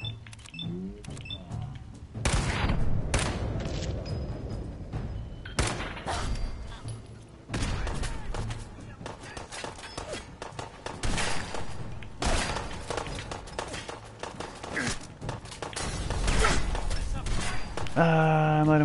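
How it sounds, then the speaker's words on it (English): Turret gunfire in the video game Fallout 4 crackles in rapid bursts and repeated thumps over nearly twenty seconds, loud and dense with brief pauses, while a voice talks at the start and end. "Oh, Jesus, it's a turret"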